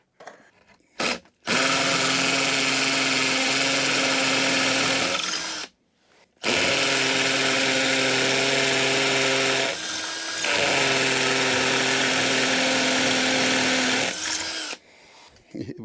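Loud hammer drill driving concrete screws through 1.5 inches of wood into concrete, two long bursts of steady grinding whir separated by a brief pause, with short gaps at start and end.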